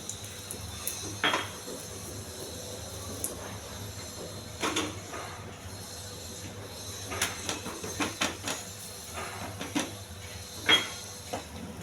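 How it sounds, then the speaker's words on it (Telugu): A metal tawa griddle pan is set onto a kitchen stove, producing several light clinks and clattering knocks scattered over a quiet background hum. "స్టవ్ వెలిగించి పెనం పెట్టుకోవాలి."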